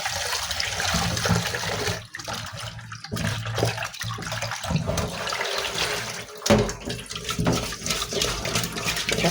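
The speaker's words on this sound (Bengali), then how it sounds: "মাছগুলিকে আমি ঘষে ঘষে ধুয়ে নিচ্ছি" Tap water pours steadily while rohu fish pieces are rubbed and washed by hand, with brief dips and splashes as the flow is interrupted.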